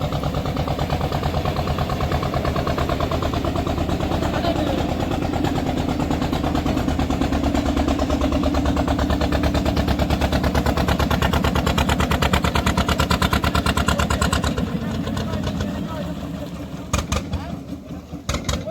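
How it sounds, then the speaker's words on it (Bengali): Two motorboats pull away on a Sundarbans waterway, their engines throbbing in a loud, steady, close drone that holds for most of the stretch, then thins and tapers off near the end. "দুটো বোট বেরিয়ে যাচ্ছে"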